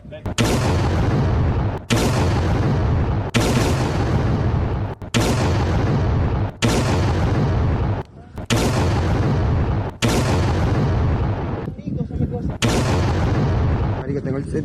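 A rapid series of powerful explosions rocking Caracas, Venezuela after dark, roughly nine loud booms following one another closely, each decaying into a long rumble before the next strikes.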